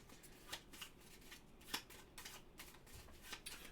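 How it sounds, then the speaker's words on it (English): Playing cards are shuffled during a solo two-handed game of Duffers, a soft series of riffling and snapping bursts, close and quiet, with no talk. "We're going to do a shuffle."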